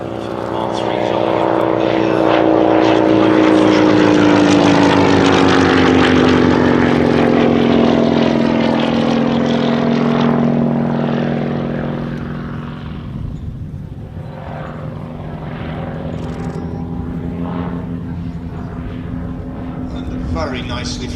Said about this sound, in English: very nicely flown aerobatic display there, demonstrating the Provost T1